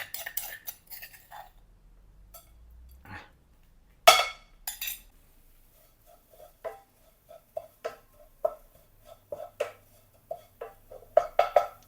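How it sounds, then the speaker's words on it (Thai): Dried chilies roasting in a pan over low gas heat for a Isan-style pork curry: sparse light clinks and ticks of the ingredients and utensil against the pan, quiet and intermittent, with a few louder scrapes. "ผมจะเอาพริกไปคั่วให้มันหอมหน่อยนะ"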